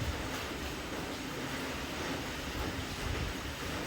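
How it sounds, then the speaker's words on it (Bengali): Strong wind roars steadily through heavy, continuous rain, a dense broadband rush that stays loud and unbroken for several seconds without voices. "দেখো কি পরিমাণে হাওয়া দিচ্ছে, বৃষ্টিটা বুঝতে পারছো কিনা জানি না, তবে এই পরিমাণে হাওয়া দিচ্ছে।"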